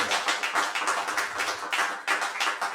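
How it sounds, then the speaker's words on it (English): Applause from a theater audience at a live mentalist show, a dense burst of many hands clapping close by, steady and lively without a break. "Give Miss Savannah a round of applause, guys."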